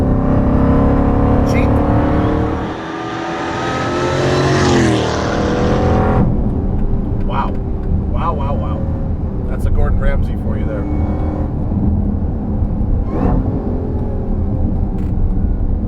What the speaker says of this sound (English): Once you start getting up in speed, you can feel it drop slightly out of its torque band when it goes to change gears